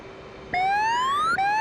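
F/A-18 jet engines in the DCS World flight simulator spool up under throttle changes, giving a loud, rising whine that climbs steadily in pitch and restarts briefly near the end.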